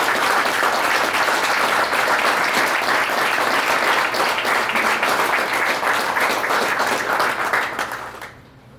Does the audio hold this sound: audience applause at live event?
yes